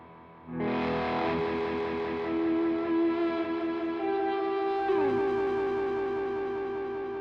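A Eurorack synth fed through a volume pedal and dual delay swells in from silence to a thick, distorted sustained chord, with a pitch shift partway through and echoing layers carrying on steadily with no talking.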